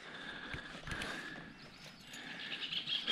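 A horse wearing a new vaquejada saddle moves with soft hoof clops over a faint background hiss, with no talking.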